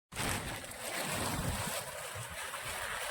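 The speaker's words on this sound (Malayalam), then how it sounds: "ഇപ്പോഴത്തെ നല്ല മഴ പെയ്യുവാണ്" Heavy rain pouring down outdoors at a fishing spot, a dense, even hiss that starts abruptly and holds steady and loud for its whole length with no voices.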